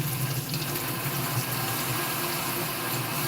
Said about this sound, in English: Wash up everything. These green peppers. These are the habaneros.